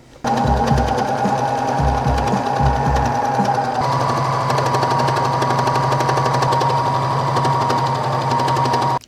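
A sewing machine runs continuously, stitching bias tape along a seam, a loud close rapid mechanical drone with dense needle clatter after a few short stop-start bursts at the beginning.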